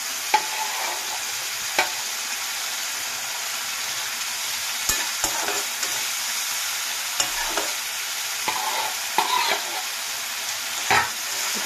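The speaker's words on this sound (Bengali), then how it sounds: "হালকা করে নেড়ে নেবো।" Fish oil and egg being stirred and fried in a pan, a continuous soft sizzle with occasional sharp scraping taps of the utensil against the pan, fairly close and without talk.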